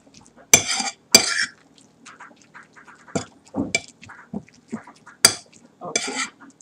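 A utensil mixes tannia accra batter seasoned with garlic powder in a bowl, giving sharp, irregular clinks and scrapes against the bowl separated by brief pauses.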